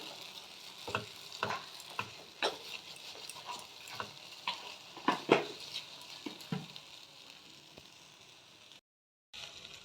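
Red chillies frying in a pan with turmeric and salt, a steady close sizzle broken by repeated sharp clinks and scrapes of stirring, then a brief silent gap near the end.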